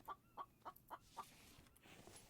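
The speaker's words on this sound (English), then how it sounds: "Actually, I might hunt that chicken." Chicken clucking in a survival video game, a series of five short, evenly spaced clucks at moderate distance, quiet, with no talk over it.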